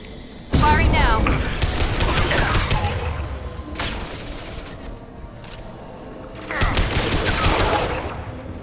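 Heavy game gunfire from Mass Effect 2 Legendary Edition comes in loud sustained bursts with crackling impacts, easing off in between and returning near the end, with voices mixed underneath.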